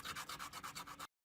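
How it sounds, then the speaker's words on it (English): A cut plastic bottle edge is rubbed on sanding paper, with about eight quick, even back-and-forth strokes, close and faint, ending abruptly in silence with a tiny final scrape. "I'll just go ahead and rub it on some sanding paper to smooth out the edges."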